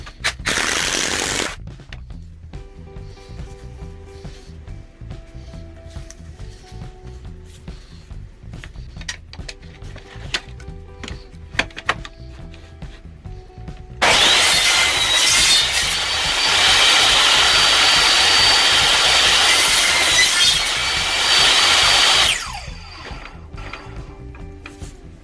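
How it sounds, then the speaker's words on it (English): Deck screws are driven into 2x4 boards with a power driver in short ratcheting bursts, followed by a loud sustained saw cut trimming the wood for several seconds before quieter clicks resume. "we're going to put a couple of deck screws in this, and then trim it up"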